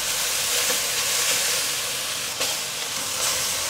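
King oyster mushroom, sweet potato and zucchini stir-frying in a wok give off a steady, dense sizzle and hiss that runs unbroken and fairly close, with no voices.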